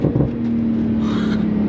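A Porsche Turbo S with a new exhaust in sport mode gives a brief, steady, fairly loud exhaust drone heard up close, with no voices.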